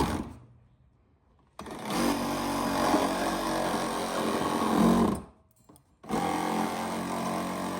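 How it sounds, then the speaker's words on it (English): A power tool cuts away a plastic tab on a 2004–09 Toyota Prius during a hitch installation, whirring loudly and close in two long runs separated by short stops. No one speaks. "This plastic tab has to be cut away to make room for the hitch as well."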